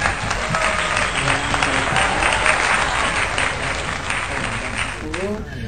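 Applause from an audience at a film premiere event, dense steady clapping that carries at a loud level through the whole stretch, with voices faintly mixed in.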